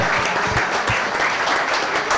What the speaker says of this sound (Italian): Un applauso a tutte loro